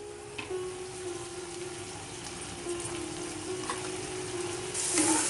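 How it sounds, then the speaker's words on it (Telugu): Onions, green chillies and tomatoes with turmeric cook in hot oil, giving a steady close sizzle with a faint background hum and a few light clinks, no voices. "పసుపు వేసాను, మగ్గుతున్నాయి."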